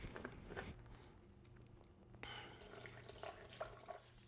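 Distilled water poured through a funnel into the coolant system of a BMW S1000RR track motorcycle, a faint, steady trickle and gurgle with small splashes, quiet and close with no voices.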